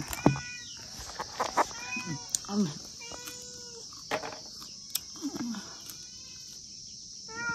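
A cat meows repeatedly in short, close calls at an uneven rhythm, with a person speaking softly and calling to it between meows against faint insect chirping.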